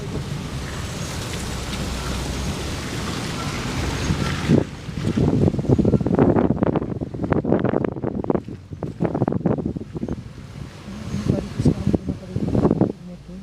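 Wind roars through an open window of a Suzuki driving down the Serra do Rio do Rastro mountain road, a steady loud rush that drops off when a window is closed, after which faint talk and bumpy road and cabin sounds carry on.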